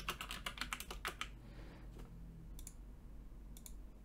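Someone types on a computer keyboard nearby, a quick run of crisp key clicks at first, then a quieter pause and a couple of short tapping bursts.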